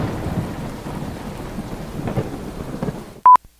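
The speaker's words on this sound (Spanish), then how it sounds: "Están en un barco, pero el problema es que llega una tormenta muy fuerte." Thunderstorm sound effect: steady heavy rain with rumbling thunder rolling underneath, a few louder cracks of thunder, then a sudden sharp burst and near silence at the end.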